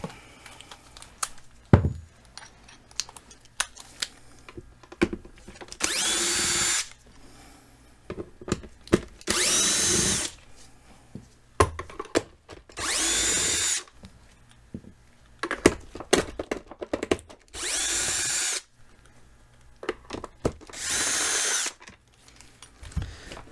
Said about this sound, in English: to get in and service this tank, you do need to use a Torx bit, and it is a T20